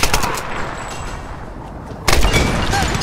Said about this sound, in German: Hier nutze ich mal mein neues Gewehr.